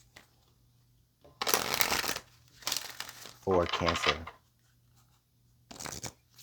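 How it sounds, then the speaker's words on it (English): Tarot cards being shuffled in bursts of riffling and crisp flapping, three or four separate shuffles close to the microphone, with a person speaking briefly between them. "Let's get one more shuffle."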